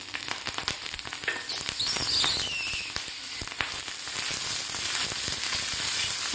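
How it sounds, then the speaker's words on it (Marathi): Cluster beans (gawar) fry in a spoonful of oil in a pan, giving a steady crackling sizzle with scattered sharp pops, close and continuous, no voices. "आता तेल घातल्यानंतर आपल्याला आणखी 2 ते 3 मिनिट हे गवार भाजून घ्यायचे आहे तेलामध्ये"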